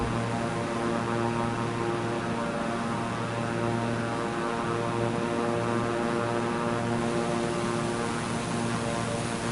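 Steady propeller drone of a Beechcraft aircraft engine in Microsoft Flight Simulator 2024, a continuous even hum with strong harmonic tones, loud and unbroken throughout with no talk.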